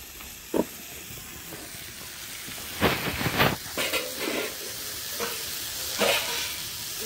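Live tilapia and vegetables fry in a pan with tomatoes going in, a soft steady sizzle under stirring scrapes, with a cluster of louder clatters and hisses in the middle and another near the end.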